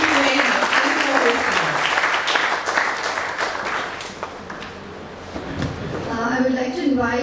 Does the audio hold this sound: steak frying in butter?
no